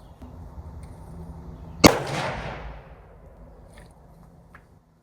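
A single rifle shot cracks out loud and sharp while zeroing with a Garmin Xero C2 chronograph, followed by a trailing echo that fades over a couple of seconds against quiet outdoor background.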